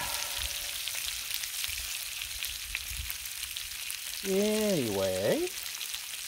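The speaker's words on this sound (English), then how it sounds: "We have the bacon going. It's sizzling, it's popping." Steady crackling sizzle of bacon frying on a hot Blackstone griddle, with a brief spoken word and a short warbling tone near the end.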